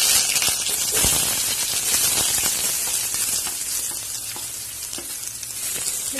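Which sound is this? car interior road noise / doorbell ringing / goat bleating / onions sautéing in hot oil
onions sautéing in hot oil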